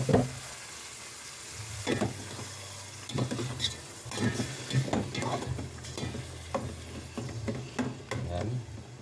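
Chopped chicken for Filipino tinola drops into a hot pot and sizzles, with stirring scrapes and clatter of the spoon in bursts over a low frying hiss.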